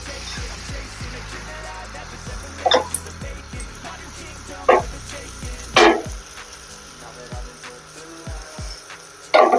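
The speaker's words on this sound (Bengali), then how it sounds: "এবার দিয়ে দিচ্ছি ফেটিয়ে নেওয়া ডিম।" Beaten egg frying in oil on a hot tawa, a steady soft sizzle punctuated by a few sharper crackles and utensil taps spaced a couple of seconds apart.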